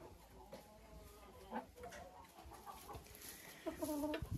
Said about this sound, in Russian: Петушок и курочка араукана.